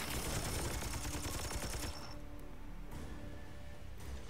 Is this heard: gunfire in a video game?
yes